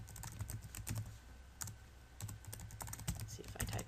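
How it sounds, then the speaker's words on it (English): Someone enters a password on a computer keyboard with quick, light keystrokes in small uneven bursts, heard up close but quietly with nothing else over them. "Let's see if I type it right this time."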